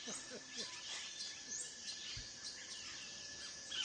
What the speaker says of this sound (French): La forêt primaire résonne de mille bruits. Oiseaux, feuillages, insectes.